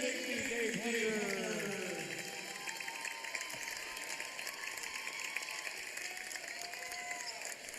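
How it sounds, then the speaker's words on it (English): Crowd applause fills the arena at a men's college basketball game between VU and Southwestern Illinois College. Steady, fairly distant clapping continues throughout, with an announcer's voice over the start. "nice round of applause"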